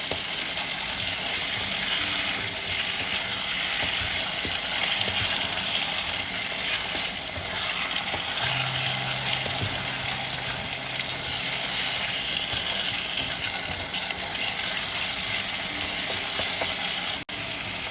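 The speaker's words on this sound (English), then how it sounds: "we're going to mix it and cook it for a little bit" Tomato is stirred and fried in a pan for fish curry, giving a steady, loud, continuous sizzle throughout with occasional stirring noises and no talk.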